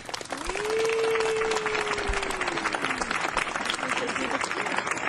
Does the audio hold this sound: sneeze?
no